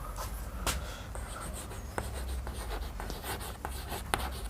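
Chalk or marker writing on a board during a geometry lecture, with soft scratchy strokes and a few sharper taps in an irregular rhythm, close and fairly quiet over low room noise.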